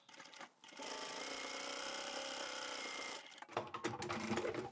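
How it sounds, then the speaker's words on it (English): A sewing machine topstitches a small rounded pouch in one steady, close, continuous run, then stops and gives way to rustling fabric handling. "open it out, and then top stitch again"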